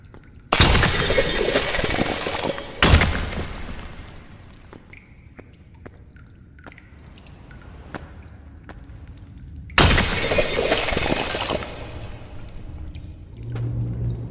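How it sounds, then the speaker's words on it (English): Crystals breaking in the video game Animal Company, two loud, close bursts of shattering glass, each lasting a couple of seconds with a tinkling tail, separated by quieter game sounds and small clinks. "You're just going to have to deal with the loud crystal breaking."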